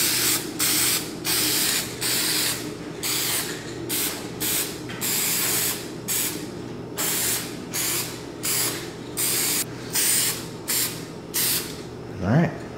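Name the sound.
spraying a light coat of lacquer on wood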